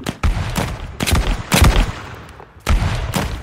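Musket line volley fire in a multiplayer line-battle game, several loud, ragged bursts of massed shots in irregular rhythm, each with a rolling, reverberant tail.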